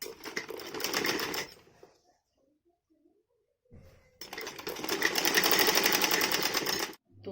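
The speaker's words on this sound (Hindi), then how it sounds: "अब इसको हम सिल लेंगे इस तरह से। बस इस सिलाई को लगा लेंगे हम दोनों तरफ।" A sewing machine stitching a dhoti salwar runs in two bursts, a fast rhythmic whirring clatter close by, with a quiet pause of about two seconds between the runs.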